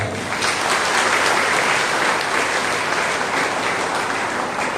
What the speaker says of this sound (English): So can we clap for her?